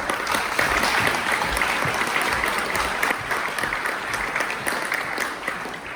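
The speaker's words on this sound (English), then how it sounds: "Give her a round of applause." A crowd at a University of Sydney science faculty student welcome applauds a speaker, with full, sustained clapping that is strongest at first and gradually thins over six seconds.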